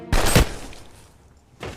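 A single loud, close gunshot blast in a World War II film, followed by a decaying tail and a second sharp report at the end.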